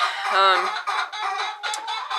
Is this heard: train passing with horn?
no